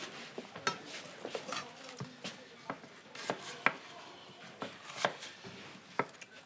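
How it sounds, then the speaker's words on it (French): Courgettes being chopped on a board in a home kitchen, a quick irregular series of sharp knife strikes, close and fairly quiet, with no talk over them. "coupe les courgettes, là."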